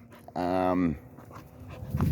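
A small dog that thinks it is big pants and whimpers close by in a short burst, with a person's voice and soft background noise around it.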